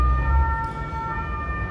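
A passing siren sounds during an indoor interview recording, steady tonal wails held over a low rumble of traffic, moderately loud and constant across the short stretch with no one speaking.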